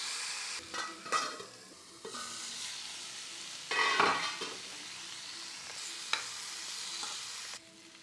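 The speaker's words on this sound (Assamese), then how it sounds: "কেঁচা গোন্ধটো যোৱালৈকে ভাজি" Whole cumin, garlic, ginger, potato and pumpkin fry with salt and turmeric in a pan, giving a steady soft sizzle broken by repeated stirring scrapes and light utensil clinks.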